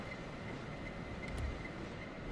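A locomotive running in a video game gives a steady, faint, low rumble with a constant mechanical drone and no break, heard alone.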